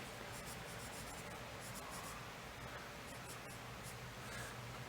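A dark pencil drawing on paper, soft close scratchy strokes repeating in quick bursts against a faint hiss, quiet and alone.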